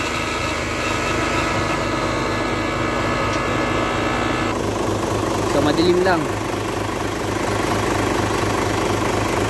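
An Isuzu Giga 10-wheeler truck's 6WF1 diesel engine with inline injection pump idles steadily with a low, even rumble and rhythmic knock, while a person speaks briefly over it.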